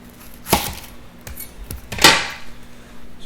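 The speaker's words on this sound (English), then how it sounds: "So just roughly chop them." Two sharp knife chops strike a cutting board, with a few lighter taps between, as vegetables are roughly cut for a slow-cooker pot roast; close and isolated with no talking.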